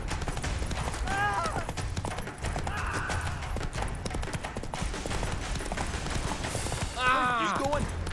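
Roach, a horse in The Witcher 3, gallops with a steady rhythmic clip-clop of hooves under continuous game sounds, and a voice talks over it, with a brief snort or whinny near the end.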